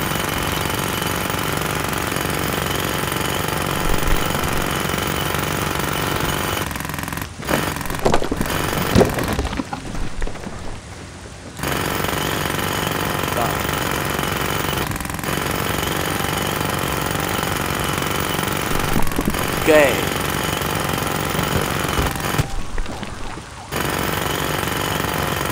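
Building walls are knocked down in the video game DemolitionCompany, where an old building is being demolished. Loud continuous jackhammer-like pounding runs through most of the stretch, with a few brief pauses.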